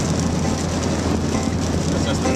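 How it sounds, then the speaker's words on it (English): Heavy rain pours steadily onto a car windshield during a cross-country drive, with the wipers off. It makes a continuous dense drumming wash over the low rumble of the moving vehicle. "Look at this, it's coming down, really pouring."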